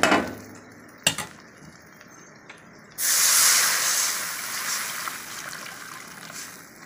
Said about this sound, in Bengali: এখন এর মধ্যে আমি জল দিয়ে দেব